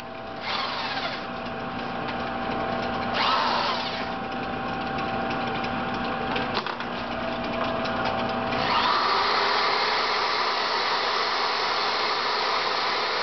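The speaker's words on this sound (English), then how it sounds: "Now he's going to start polishing shit with this polishing compound and that wheel." A motor-driven polishing wheel loaded with polishing compound spins in a steady high whine, its pitch and load shifting as a workpiece is pressed in and pulled away, with no voices.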